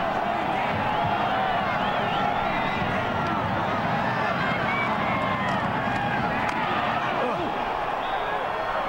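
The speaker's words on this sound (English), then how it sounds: "Then you can hear the crowd go, ooh" A college football stadium crowd at the 1992 Egg Bowl, Ole Miss versus Mississippi State, roars as a dense, continuous wash of many voices, loud and sustained throughout with a commentator's talk mixed in.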